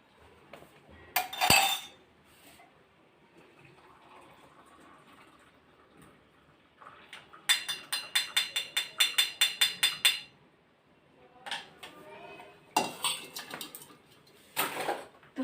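A spoon clinks rapidly against a ceramic tea cup while tea is stirred, coming in several close, bright bursts separated by quiet pauses.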